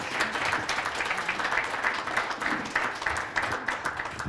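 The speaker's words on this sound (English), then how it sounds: "Can we just give her a round of applause?" Audience applause fills a hall at a construction careers event, a steady, dense wash of clapping that holds at an even level for the whole stretch without any talk over it.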